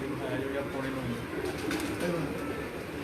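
Racing pigeons coo in a low, steady murmur close by, blended with background noise and a few faint calls, while people talk over them.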